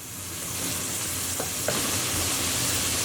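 Chopped onions frying in a pan on medium heat, giving a continuous bright sizzle with a couple of faint scrapes from stirring, steady and close.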